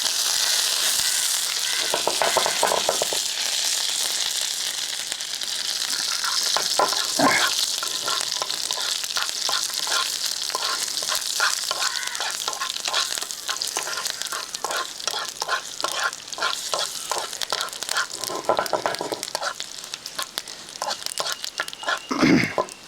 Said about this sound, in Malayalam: എണ്ണ ചൂടായിട്ടുണ്ട് നമുക്ക് അതിലേക്ക് ഒരു ഒന്നര ടീസ്പൂൺ കടുക് ഇട്ട് വറുത്തെടുക്കാം